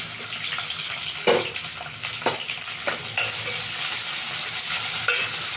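Capsicum fries in hot oil with a continuous hissing sizzle, and a few louder scraping stirs rise over it close by. No one speaks.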